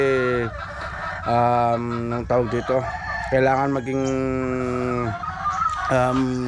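Chickens cluck and a rooster crows loudly nearby in a backyard chicken coop, with repeated calls over a few seconds while a person talks in the background.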